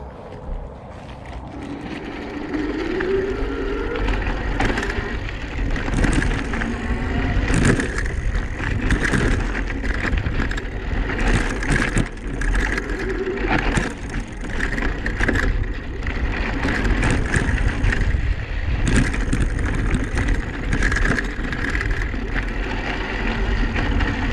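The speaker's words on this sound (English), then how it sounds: "I'm going to use the throttle to get started since it's an incline." A Magnum Mi6 hardtail electric mountain bike climbs an incline on its throttle outdoors, steady whooshing wind and rolling noise throughout, with a faint motor whine and occasional bumps, no talking.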